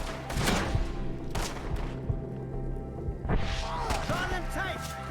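Gunfire at enemies up in the trees during a Red Dead Redemption 2 shootout, a few sharp cracks spaced irregularly amid shouting voices and background game noise.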